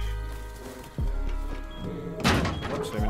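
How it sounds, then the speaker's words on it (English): Trees being chopped in the Rust survival game: two loud, hollow thunks about a second apart, with smaller knocks between them over low background hum. "There's some motherfucker out there chopping trees again."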